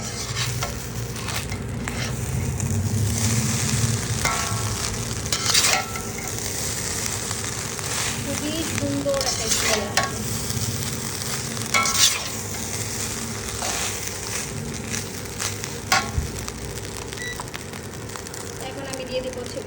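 Vegetable fried rice being stir-fried in a pan: steady sizzling with scraping and tossing of a spatula against the pan, close and continuous, broken by occasional clinks.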